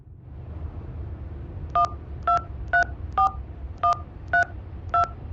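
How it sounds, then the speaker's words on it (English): Seven crisp DTMF touch-tones keyed in steady succession on a telephone in the horror video game Hitchhiker, each short beep clear and close over a low background hum. "Dial the number."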